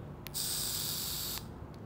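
A short, close airy hiss lasting about a second, a quick inhaled draw through an Aspire Cloudflask S vape pod with a 0.25-ohm mesh coil, framed by two faint clicks.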